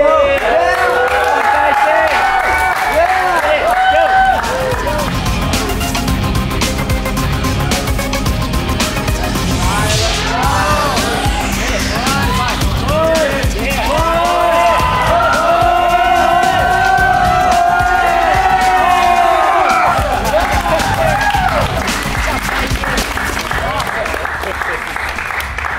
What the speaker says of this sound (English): now we've got the audience of awesome people right here to cheer